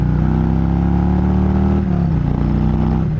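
Engine of a 2021 Harley-Davidson Road King with performance exhaust, a loud deep rumbling idle with a throaty, slightly uneven pulse, close up and continuous with no talk.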